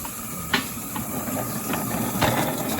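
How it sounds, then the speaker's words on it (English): Steam hisses from an NSW Z18 class steam locomotive as the regulator is opened, a steady hissing rush with a few sharp bursts and clanks, fairly loud and close, with no speech. "open the regulator, let some steam out"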